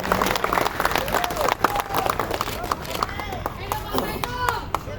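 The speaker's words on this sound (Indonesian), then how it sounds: "Aplaus untuk rekan-rekan semua." An audience at a national police chief's address to a labour rally applauds steadily: dense, sustained clapping from a large crowd, loud and continuous throughout, with a voice speaking over it.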